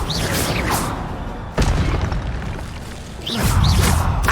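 Spellcasting in Hogwarts Legacy produces a few whooshing, booming magical blasts, including a fire spell, loud and close with sudden impacts and swishes.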